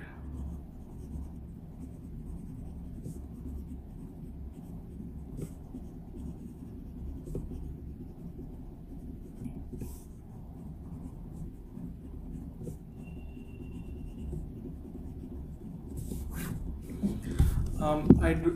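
Fountain pen nib scratching and gliding across paper in quiet, steady strokes, faint and close, with a brief louder rustle near the end.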